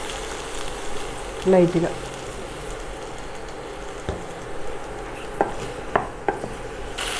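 Chopped tomatoes with a pinch of asafoetida sizzle and fry steadily in a pan for a street-style tomato chutney, with soft stirring and a few sharp utensil clicks, and a voice briefly speaking over the sizzle.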